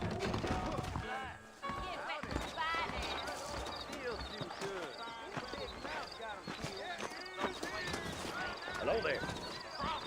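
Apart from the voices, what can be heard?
horses' hooves clip-clopping in the Red Dead Redemption video game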